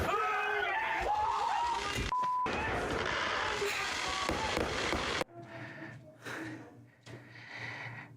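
Fireworks bursting outside at night, a dense run of loud crackling blasts for about five seconds, then quieter scattered pops and booms further off, with some voices faintly in the background.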